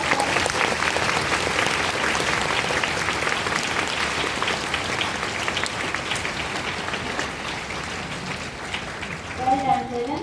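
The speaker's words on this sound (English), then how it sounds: "shall we give a big round of applause for" Loud, sustained applause from a large crowd at a school establishment day event, dense clapping that slowly eases, with a brief voice rising near the end.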